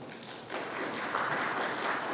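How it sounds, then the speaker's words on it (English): Audience round of applause at an education ministry digital transformation launch, clapping starting abruptly and continuing as a steady moderate wash from a seated crowd. "they most definitely deserve a round of applause."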